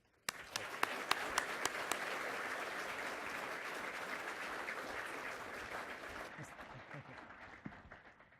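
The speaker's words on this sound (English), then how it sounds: "Everyone, please help me in welcoming Darren." An audience at an accessibility event applauds to welcome a speaker, opening with a few distinct claps before settling into sustained, even clapping that slowly fades toward the end.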